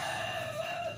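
Jungle fowl gives a brief, high, strained call lasting about a second, rough and buzzy, heard at moderate distance over faint background noise.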